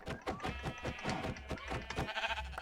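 Sheep in the Minecraft video game bleat in a quick series of short, wavering calls, several overlapping bleats close together, fairly soft and without talk.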